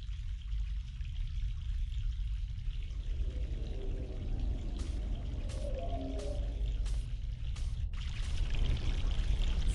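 A mountain stream in the adventure game The Longest Journey flows in a steady, close rush, with bubbling gurgles rising midway and the flow swelling louder toward the end.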